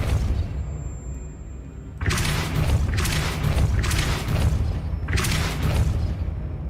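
A Depulso force spell is cast in the Hogwarts Legacy video game, giving a sudden loud broadband blast followed by repeated whooshing bursts of roughly a second each, with no talking.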